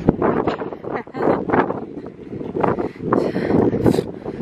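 Steady gusty wind on a beach near a pier buffets the microphone, a loud continuous rumble with rustling bursts, no talking.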